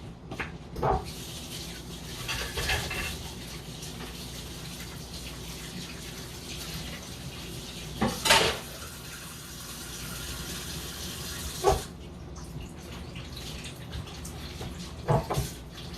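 Tap water runs into a sink in bursts while hands are rinsed during lobster tail cooking, soft flowing water broken by several louder splashing surges, with no speech.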